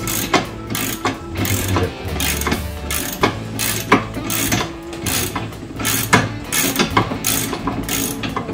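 Socket ratchet working bolts on Mustang suspension with BMR bracing, quick bursts of clicking ratchet pawl strokes in uneven rhythm, close up, with brief pauses between runs.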